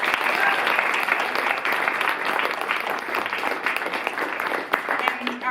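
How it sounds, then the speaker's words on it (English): Audience applause after a performance of a monologue from 'The Vagina Monologues', a sustained wash of many hands clapping, loud and even, tapering briefly near the end. "to give yourselves a round of applause."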